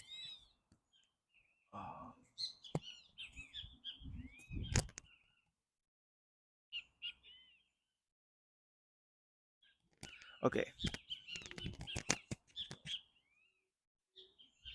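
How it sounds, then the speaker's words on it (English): Birds chirping outdoors, a cluster of high tweets and calls in two bursts separated by near silence, with a voice speaking briefly in between. "sorry, all the birds."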